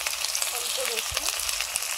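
A little garlic sizzles in hot oil, a steady close crackle with a few soft stirring knocks mixed in.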